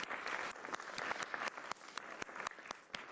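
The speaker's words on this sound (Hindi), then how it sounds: "इंडिया के लिए तालियां।" Applause celebrating India's T20 World Cup cricket win over New Zealand: a faint, steady wash of clapping with sharp individual claps standing out, without any talk.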